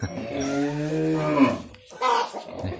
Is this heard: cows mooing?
yes